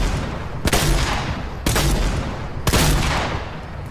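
A double pump shotgun in Fortnite fires three loud, booming blasts about a second apart, each one followed by a noisy tail.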